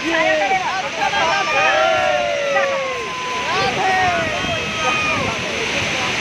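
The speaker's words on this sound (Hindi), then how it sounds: "झरने के पास में है, पानी बहुत आ रहा है।" Chitrakote waterfall in full flow makes a constant, loud roar of rushing water. A steady wash of noise lasts throughout, overlaid with distant crowd voices and high, sweeping tones.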